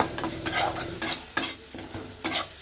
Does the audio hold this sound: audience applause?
no